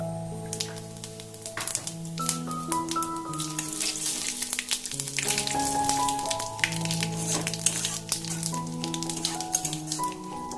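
Two bay leaves, two dried chillies and half a spoon of whole cumin frying in hot oil, crackling and popping steadily up close beneath a bed of sustained musical tones, with no talk.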